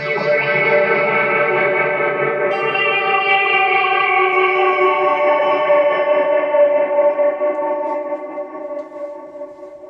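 Sustained electric guitar chords through a Zoom MultiStomp shimmer with super chorus and a mod delay, washing into a big arena reverb tail that slowly fades near the end.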